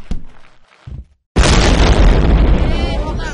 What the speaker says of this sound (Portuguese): explodiu uma farm inteira ali